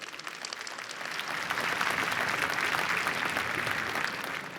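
An audience at a conference event applauds, clapping rising from scattered claps into a steady, dense wave of applause that holds to the end.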